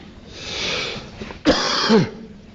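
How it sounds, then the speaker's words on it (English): A single person coughs up close indoors during a lecture, a short rough double burst with a rasping throat sound, preceded by a breathy exhale and no speech. "I have a little cough"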